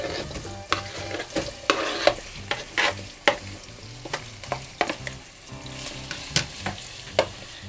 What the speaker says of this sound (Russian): Ну вот масло нагрелось, лучок уже обжаривается. Кидаю туда тоже мясо.